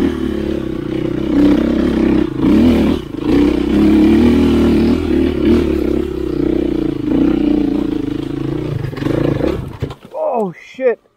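An enduro dirt bike engine roars loudly and steadily during hard enduro riding, then cuts out abruptly near the end, followed by a few short, faint sounds.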